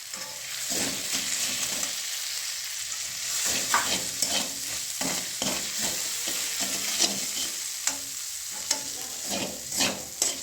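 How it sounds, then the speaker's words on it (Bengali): Ginger paste with turmeric, chili and cumin powders frying in a pan while being stirred: a dense sizzle broken by repeated scraping strokes of the spoon, close and uneven in rhythm, without speech. "এখন মশলাটা একটু কষিয়ে নেব এখানে এটাতে জল দেওয়া চলবে না"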